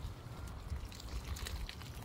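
Water pours into a potted plant in a greenhouse, a steady close trickle and splash with no voices.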